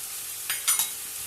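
Vegetables with spices cook in a pan under a steady, close sizzle, while two or three quick scraping stirs cut through the middle.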